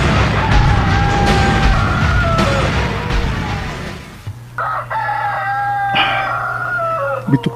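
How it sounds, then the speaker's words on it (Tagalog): Roosters crowing near dawn, one long loud crow followed by further crows from other birds, with clucking and a sudden drop to quieter background partway through. "Bitok gaok na ang mga manok."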